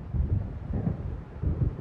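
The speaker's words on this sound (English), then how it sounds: "It seems there's a storm coming." An approaching storm in the video game Alan Wake sends deep, rolling thunder through the air in several low rumbling swells, moderately loud and steady, with no voices.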